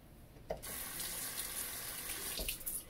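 A bathroom tap runs in a steady, close hiss that starts abruptly, with a few clinks and splashes as a comb is wetted under the stream.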